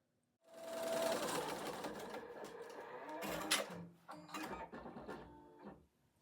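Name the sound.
embroidery machine stitching the last stitch of a shaker tag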